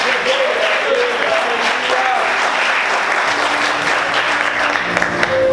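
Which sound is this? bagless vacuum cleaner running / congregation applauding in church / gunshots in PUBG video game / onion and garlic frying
congregation applauding in church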